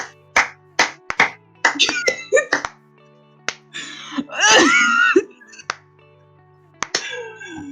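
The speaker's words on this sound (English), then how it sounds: "Slow clap it out, everybody!" An audience claps slowly in unison, sharp evenly spaced claps that come in close and loud, with voices calling out and chanting between and over them.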